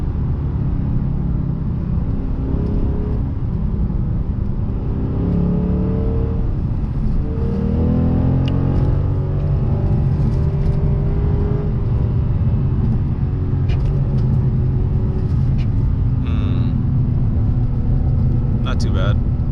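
A Lexus RC F with a stiff chassis drives on an open road, its engine holding a steady low rumble with brief revving swells, while a person talks throughout.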